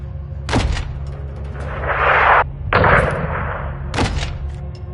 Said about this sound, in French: Détruisez cette porte avec un missile ou le canon 40 mm.